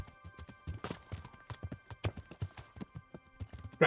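Video game horse hooves clip-clop in a quick, steady trotting rhythm, fairly close, with no voices, from Kingdom Come: Deliverance.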